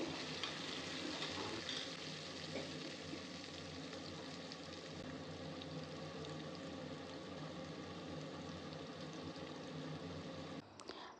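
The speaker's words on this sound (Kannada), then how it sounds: "ಎರಡು ಈರುಳ್ಳಿ ಹಾಕೋತಾ ಇದ್ದೀನಿ ಇದಕ್ಕೆ ಸ್ವಲ್ಪ ಉಪ್ಪು ಹಾಕಿ ಫ್ರೈ ಮಾಡ್ಕೋತಾ ಇದ್ದೀನಿ" Onions with a little salt sizzle and fry in a pan, a soft, steady crackling hiss that continues throughout with faint stirring, and a brief bump near the end.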